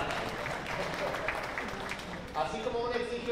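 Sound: audience applause

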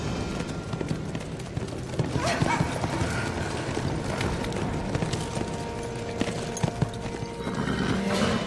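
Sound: horses galloping and neighing

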